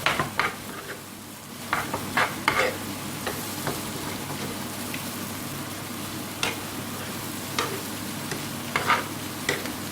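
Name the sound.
stirring bottle gourd pieces with prawns in a pan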